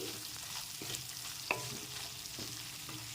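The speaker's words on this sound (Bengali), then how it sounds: "গুঁড়ো মশলাগুলো দিয়ে 2 মিনিট কষিয়ে নিয়েছি" Ground spice powders stir-fried in oil for a vegetarian aloo dum, a soft steady sizzle broken by a few sharp clicks of a spoon scraping the pan.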